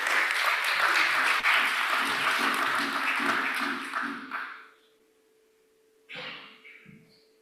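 An audience at a national research week event applauds a presenter. Dense, loud clapping from many hands lasts about four seconds and then fades out, leaving a quiet hum, followed by a few faint sounds near the end.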